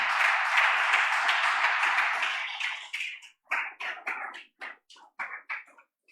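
A church congregation breaks into a burst of applause that swells loudly, then thins into scattered, separate claps before fading out.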